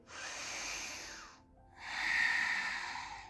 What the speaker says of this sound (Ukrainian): І заключний глибокий вдих.